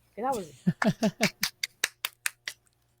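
A short vocal whoop, then a quick run of about ten sharp, evenly spaced hand claps in VR, each a crisp single smack that fades out at the end.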